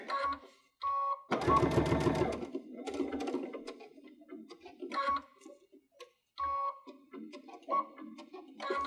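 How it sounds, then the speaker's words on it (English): A Baby Lock Unity sewing machine sews twisted cord trims in short, intermittent bursts of stitching, one longer and louder run near the start, with light ticking pauses between. "I'm going to sew all the way till I hit the wall."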